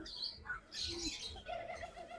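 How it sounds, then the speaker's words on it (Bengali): Doves at their nest give a soft, low coo, faint and brief, mixed with scattered higher chirps and squawks from other birds nearby, all at a quiet level. "ঘুঘু পাখিরা বাসা বানায় নিছে।"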